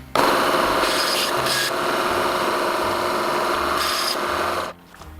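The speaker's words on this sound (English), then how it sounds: "I've never tried sawing in cast iron before" A bandsaw grinds continuously through cast iron, a loud, steady rasping scrape close by that stops abruptly near the end.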